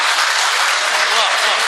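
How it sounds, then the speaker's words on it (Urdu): An audience at an Urdu poetry recital breaks into loud, dense applause, a continuous wash of clapping from a crowd that fills the whole short moment. "تھوڑا تالیاں بجائیے ایک دفعہ"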